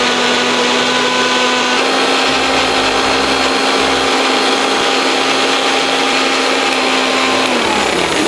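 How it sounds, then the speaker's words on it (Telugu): A mixer grinder whirs loudly and steadily as it blends finely chopped pieces into a paste, its motor tone holding level and then winding down at the very end. "ఈ సన్నగా తరిగిన ముక్కల్ని ఇలా మిక్సీ జార్లో వేసుకొని పేస్ట్లా తయారు"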